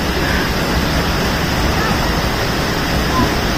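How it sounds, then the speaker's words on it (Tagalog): Steady broadband rush of a tiered waterfall cascading in several steps along a hiking trail in Japan, loud and continuous at close range with no break, a constant white-noise roar filling the whole clip. "Ito na yung waterfalls na yung patong-patong ngayon."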